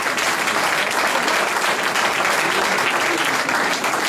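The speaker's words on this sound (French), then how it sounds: "Il faut l'applaudir" A crowd at a presidential election-night gathering claps steadily, a dense, even roar of applause with no breaks across the whole stretch and no voices rising above it.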